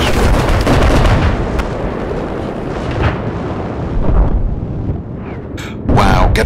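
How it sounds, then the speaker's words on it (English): Sniper gunfire in Battlefield 4 during a large Conquest match, with dense overlapping shots, booms and battlefield rumble running continuously and loud, plus sharper bursts near the end. "getting sniped from across the map from someone on top of a building"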